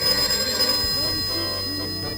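In a radio-play domestic kitchen scene, a telephone rings with a sustained trilling bell, close and loud, while a faint voice or background radio murmurs underneath.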